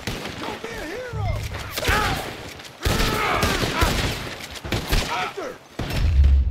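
Rapid, repeated gunfire from a firefight in the video game Red Dead Redemption 2, with loud close shots and bursts scattered throughout while voices shout over the shooting.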